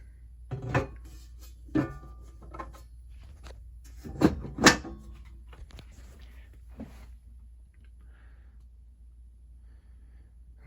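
A powder-coated metal lid for a 150-300 amp power supply box is handled: a few separate clunks and knocks, two or three louder near the middle, with quiet pauses between them.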